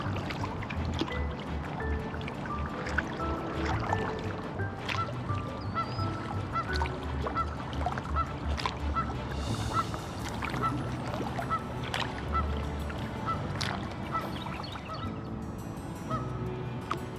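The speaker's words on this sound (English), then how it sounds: "we were kind of wondering if the geese were going to allow us through" Geese honk repeatedly at close range near a creek bridge during a paddle trip, a chorus of nasal calls overlapping in irregular bursts over a constant low outdoor rumble.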